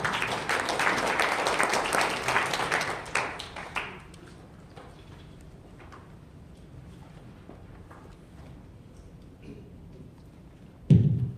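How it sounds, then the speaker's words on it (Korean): Applause from a seminar audience welcoming a speaker on military chaplaincy, a steady wash of clapping for about four seconds that dies away into a quiet room, with one dull thump near the end. "우리 박수로 환영하겠습니다."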